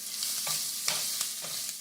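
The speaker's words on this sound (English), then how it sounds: "once you got everything crackling and sizzling. And yes, it is cracking and sizzling." Salmon fillets frying at medium heat in a pan, giving a steady bright sizzle with scattered crackles and a few stirring clatters, close and continuous with no talking.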